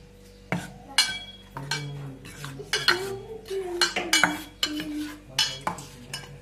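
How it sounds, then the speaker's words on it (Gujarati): A spoon scrapes and clinks against a pan while tempered chutney is stirred and mixed, with irregular metallic knocks and scrapes repeating through the stretch at close range. "હવે સરસ રીતે મિક્સ કરી દઈએ."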